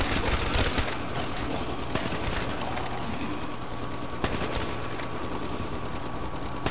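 An RPK machine gun fires in a zombie shooter game, with rapid automatic bursts and scattered shots packed into a steady, fairly loud barrage and no voices.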